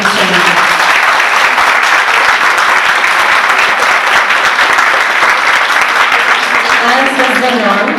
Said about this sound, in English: a big round of applause for these children